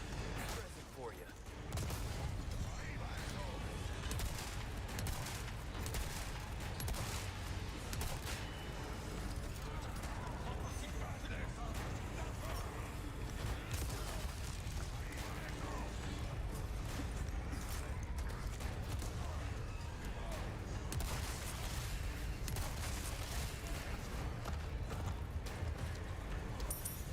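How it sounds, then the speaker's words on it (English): Gunfire and reloading in the video game Resident Evil 4 Remake, a dense, low-level clatter of rapid shots and mechanical clicks that runs almost continuously, with a voice talking over it. "Leon, fire the gun! Like, stop reloading and fire the fucking thing!"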